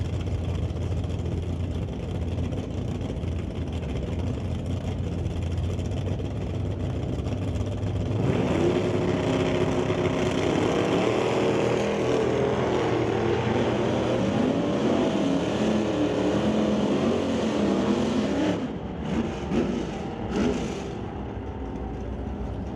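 Drag racing cars at Mission Raceway Park idle with a low rumble, then swell into a loud, sustained roar at about eight seconds that carries on for some ten seconds before it fades back to a lower drone.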